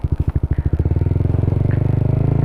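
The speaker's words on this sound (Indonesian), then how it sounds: "Kita pakai jalan si knalpot WRX ini." A motorcycle fitted with a WRX K3 oval aftermarket exhaust pulls away on the road, its loud, close exhaust thumping in rapid pulses that quicken into a steady, throaty drone as it accelerates.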